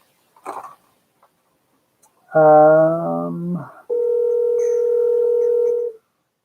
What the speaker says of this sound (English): That is the phone, and that's probably going to be a